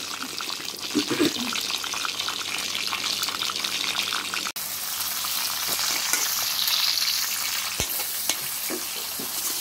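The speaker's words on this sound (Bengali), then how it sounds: "এইরকম করে পটলগুলো ভেজে নিতে হবে" Pieces of pointed gourd sizzle and crackle loudly in hot oil, a continuous frying hiss with occasional stirring knocks and clinks.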